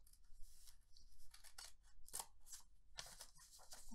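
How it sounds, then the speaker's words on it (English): Scissors snip through paper to cut out a triangle for a children's storytime shapes craft, with several crisp, close cuts in a quick irregular rhythm and no talking over them. "I'll cut a nice triangle right"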